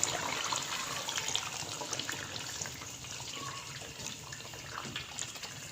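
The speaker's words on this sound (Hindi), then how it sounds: "यहाँ पे 1 गिलास हम पानी का डाल देंगे।" A glass of water poured into a pan of cooked masala for Lahori chickpeas, a steady splashing gush that tapers slightly, soft and continuous with no talk.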